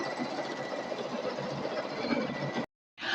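An embroidery machine with a straight needle stitching free standing lace earrings, a steady close mechanical whir running continuously before a brief cut to silence.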